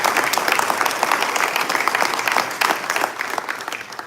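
A crowd at a State of the North County address breaks into dense, sustained applause that stays steady and close throughout, with no speech over it.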